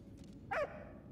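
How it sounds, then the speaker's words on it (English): A puppy in the game Valiant Hearts gives a single short, faint whimpering yelp over a low background hum, preceded by a soft muffled sound. "It's a little puppy doggy."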